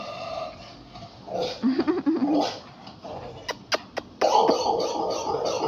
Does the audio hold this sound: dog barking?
yes